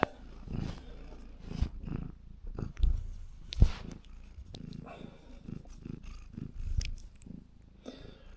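A cat purrs close to the camera with a low, continuous rumble, broken by soft rubbing bumps and thumps against the microphone during a workshop repair session.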